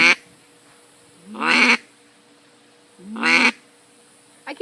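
A small double reed duck call gives two separate quacking bursts, close and moderately loud, with a short start of another at the end, set against quiet background hiss beside a small farm pond.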